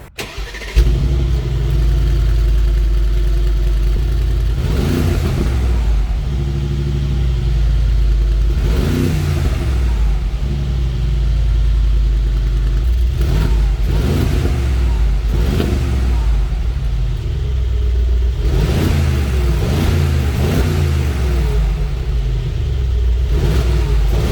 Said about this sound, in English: I'll show you the exhaust note and how it sounds